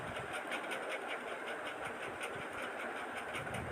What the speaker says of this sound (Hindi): और इस तरह से लास्ट तक सिलाई लगाकर तैयार करेंगे